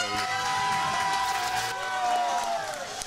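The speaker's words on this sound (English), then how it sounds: "The crowd goes wild." A crowd cheering and roaring at a grappling event, a steady wash of loud voices in a large hall, with a commentator talking over it.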